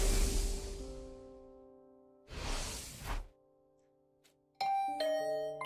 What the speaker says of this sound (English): Ding dong, who's at our door? Was that my doorbell?